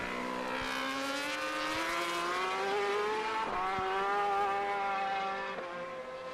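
Superbikes at full throttle during a MotoAmerica Superbike qualifying session at Alabama in 2024, a continuous loud engine whine rising in pitch as bikes scream past, with several overlapping machines and brief dips as one passes close.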